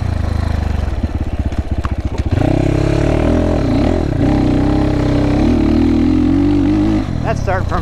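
A GPX FSE300R motorcycle pulls away from third gear, a rapid low chugging that builds into a loud, rising engine roar, heard close with a rider talking over it.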